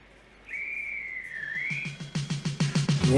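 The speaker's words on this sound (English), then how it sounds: "When he hears that whistle blow, Gordon's hissing ready to go." A steam engine whistle blows a long, steady tone for over a second, followed by rapid rhythmic chuffing that grows louder as the engine pulls away.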